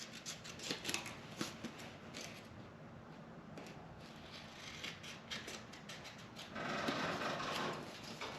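Tiny scissors snipping out a patch of metal or material in a welding workshop, giving a run of small close crisp cuts and rustles with steady background noise, louder toward the end.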